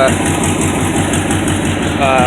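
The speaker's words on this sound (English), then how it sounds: "Doesn't that thing idle though, man? It just idles away. It's in there idling." A 1971 Oldsmobile Vista Cruiser with a rebuilt engine idles close by, its steady, loud, low rumble pulsing evenly throughout.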